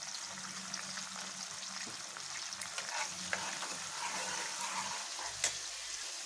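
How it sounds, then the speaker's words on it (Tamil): Ground masala paste frying in oil in a pan for bottle gourd kofta curry, a steady low sizzle with occasional scrapes of stirring, close and moderately quiet, no talking. "இது கொஞ்சம் எண்ணெய் வெளியே வர வரைக்கும் நல்லா ஃப்ரை பண்ணிடலாம்"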